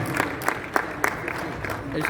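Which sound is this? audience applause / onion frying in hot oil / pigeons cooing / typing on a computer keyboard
audience applause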